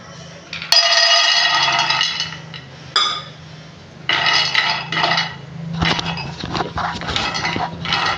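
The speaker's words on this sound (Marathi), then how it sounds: "काही ह्याच्यातले पदार्थ आपण भाजून घेऊया" Pan clatter while dry roasting ingredients for gond (edible gum) laddoos with dates and ghee, in a home kitchen: metallic scraping and clinking bursts come and go near the mic, separated by short quieter gaps, with a low steady hum beneath.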